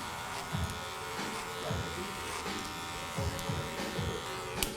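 Electric hair clippers buzz steadily at close range while cutting bulk from long hair during a first haircut in months, with repeated short swishing passes through the hair and quiet talk underneath.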